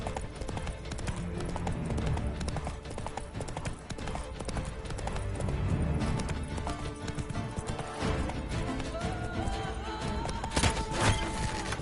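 Roach, the horse in The Witcher 3, gallops with fast, driving hoofbeats over in-game music and ambience, with a brief whinny-like cry and a sharp clatter near the end.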